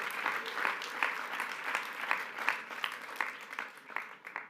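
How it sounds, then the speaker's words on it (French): An audience at the closing session of a political campus event applauds, a steady, moderately distant wash of clapping with regular bursts, no voices over it. "vous pouvez applaudir l'un comme l'autre."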